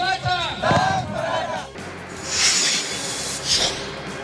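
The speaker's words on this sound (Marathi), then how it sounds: "रायगडच्या रोहा शहरामध्ये देखील मराठा समाज बांधवांनी जल्लोष केला।" Members of the Maratha community in Roha town, Raigad, celebrate a reservation decision with loud crowd shouting and cheering that rises and falls in waves, with bursts of hissing noise.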